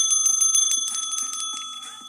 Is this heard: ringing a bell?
yes